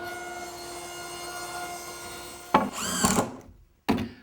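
A power saw rips a wooden deck plank to width for an outdoor garbage enclosure. A steady whining hum builds into a loud, harsh cutting burst, then a brief silence and a final short cut.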